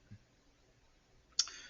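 Mouse clicks while selecting Insert and Chart in Google Sheets, with a faint soft click near the start and a sharper, louder click toward the end over near silence.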